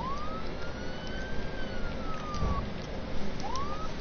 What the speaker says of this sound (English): I just heard a cop car.